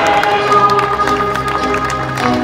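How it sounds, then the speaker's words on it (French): A crowd applauds the third-place runner on the podium at a race, with continuous loud clapping and cheering throughout and no clear speech on top. "On peut l'applaudir."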